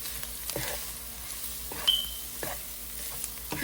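Egg fried rice with pepper powder is stirred in a hot pan, a spatula scraping in repeated strokes over a continuous close sizzle, with no one talking.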